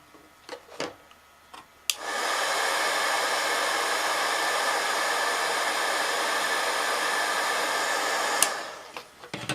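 A heat gun blows hot air onto shrink-plastic ornaments, a steady, loud rushing hiss that switches on abruptly, holds evenly for several seconds, then cuts off, with a few small clicks before and after.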